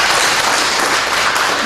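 A church congregation breaks into brief, loud applause during a Sunday service, dense and continuous clapping that fills the room with no talk over it.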